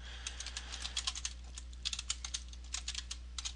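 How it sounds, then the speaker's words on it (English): Rapid, uneven bursts of keystrokes on a computer keyboard, close and fairly quiet over a steady low hum, with brief pauses between runs of typing. "You can just type it in."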